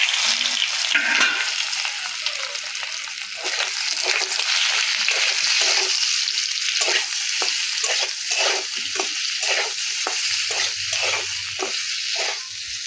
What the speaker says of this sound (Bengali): এখন আমরা আলুটা দিচ্ছি, হালকা দিয়ে তেলে ভাজা করে।